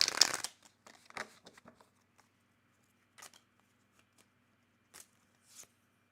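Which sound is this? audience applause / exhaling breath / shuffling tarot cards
shuffling tarot cards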